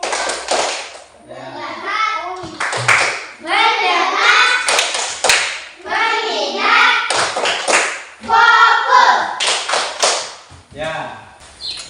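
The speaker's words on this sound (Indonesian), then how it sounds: "Dengan tepuk tangan, tepuk 1, tepuk 2, tepuk 3, tepuk fokus" A classroom clapping routine led by a teacher: children clap in counted patterns, sharp rhythmic claps interspersed with chanted voices, close and loud throughout.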